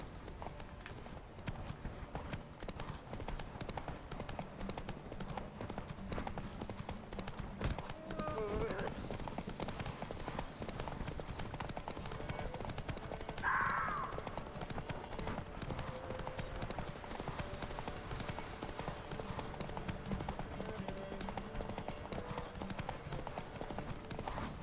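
Horse hooves clip-clop steadily through a race toward Kaer Morhen in The Witcher 3, a continuous galloping rhythm with a brief whinny, heard under game music and spoken dialogue.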